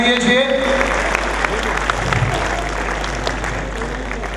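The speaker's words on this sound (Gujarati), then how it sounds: "તાળીઓના ગડગડાટથી વધાઈએ" Audience applause at a Maha Adhivesan function, a steady broad wash of clapping with a faint voice over it near the start.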